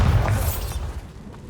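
A Bombarda spell explosion in the video game Hogwarts Legacy, a loud, booming blast with a shattering crack up top, quickly fading into a rumbling tail.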